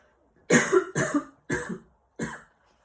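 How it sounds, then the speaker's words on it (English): Four harsh coughs come in a row with short pauses between them, close and loud, the last one slightly weaker. "I feel a coughing fit coming on"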